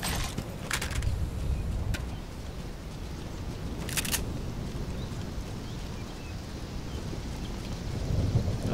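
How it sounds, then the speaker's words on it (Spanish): A storm closes in within the Fortnite video game, with steady rain hissing throughout and a few sharp thunder cracks and crackles breaking through, with no speech. "ahora se va a cerrar la tormenta dentro de un ratito"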